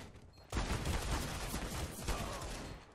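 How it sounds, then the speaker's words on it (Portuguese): Rapid Desert Eagle gunfire landing headshots in Counter-Strike on Dust 2, a dense run of loud, close shots that begins abruptly and keeps going to the end without pause. "Isto são headshots de Deagle."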